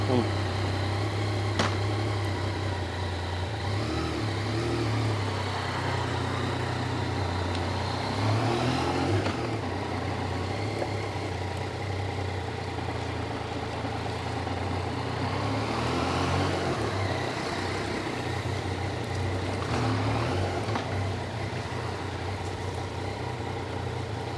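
A Yamaha XSR900 motorcycle with 3,300 km on it idles quietly: a steady, low engine rumble runs evenly throughout with no revving, heard from nearby in an outdoor setting.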